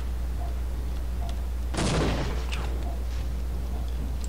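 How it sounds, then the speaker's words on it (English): A single sharp blast from a grenade or gunshot in the Half-Life first-person shooter cuts through a steady low hum, short and fairly close, with a little scattered noise before and after. "Would you stop with the godforsaken grenades?"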